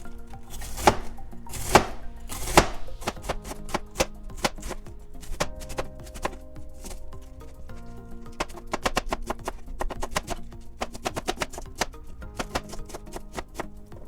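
Knife cutting through cabbage on a cutting board for Liberian fried cabbage, a few heavy chops at first and then quick, steady slicing taps close by.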